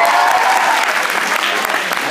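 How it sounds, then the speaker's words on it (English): An audience at a campus comedy showcase claps steadily and densely for the whole stretch, a loud continuous wash of applause with no breaks. "Clap for the lion."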